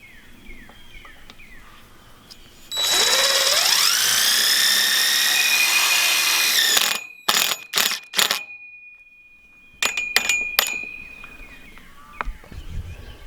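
Tech screws driven into a wooden hip board on a high tunnel greenhouse frame: a steady powered whir of about four seconds, then several short bursts of drilling with pauses between them.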